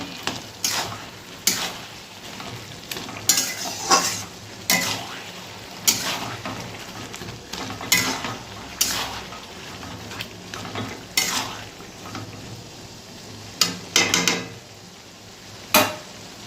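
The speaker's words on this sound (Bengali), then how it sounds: "এবার একটু চিনি দেব চিনিটা দিয়ে দিলাম ভালো করে নেড়ে দেবো" Mung dal and ash gourd curry being stirred in a pan after sugar is added, with a spoon scraping and knocking against the pan in repeated strokes over a soft, steady sizzle.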